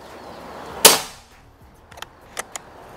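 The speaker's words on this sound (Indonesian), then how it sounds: "Kira-kira berapa kali shoot yang dihasilkan dari senapan Predator Bocap Semi CNC ini?" A single sharp shot from a Predator Bocap Tactical Semi CNC PCP air rifle cracks out loud and close, its echo fading, followed by a few faint mechanical clicks.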